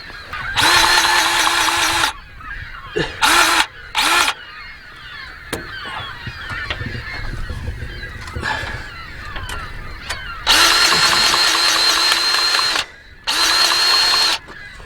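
DeWalt 20V MAX cordless grease gun running in several loud whining bursts of varying length, with quieter gaps between them, close by.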